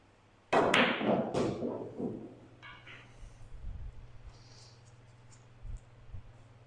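A cue strikes the ball for a draw shot in 9-ball pool with one sharp close crack, followed by softer ball clicks and faint thuds fading as the balls roll.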